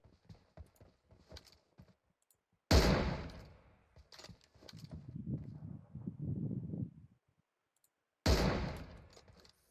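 M4 rifle gunfire in a Turkish-played shooter video game: two sharp single shots several seconds apart, with a rattling burst of clatter and faint clicks between them.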